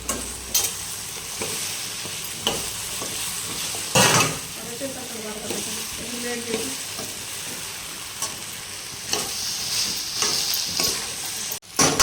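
Okra frying in a pan, stirred with a utensil at regular scrapes, a steady sizzle underneath and a louder clatter of the spoon against the pan now and then; close and fairly loud, no talking.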